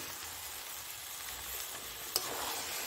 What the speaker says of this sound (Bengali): এই যে আমার মশলা এবারে ভাজা হয়ে গেছে। এবারে আমি ওর মধ্যে মাংসটাকে ঢেলে দেবো।